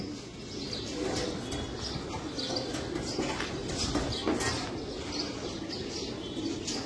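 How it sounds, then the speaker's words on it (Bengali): Pigeons take off and settle again, a dense rumbling mix of low cooing and fluttering wings throughout, with faint chirps scattered above. "কবুতরগুলো আবার উড়াল দিছিল"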